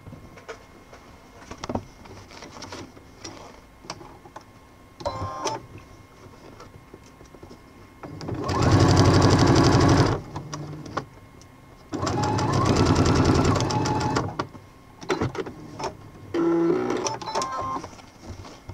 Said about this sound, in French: Donc on va coudre la deuxième partie.